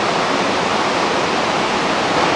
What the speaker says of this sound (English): Dettifoss, the most powerful waterfall in Europe.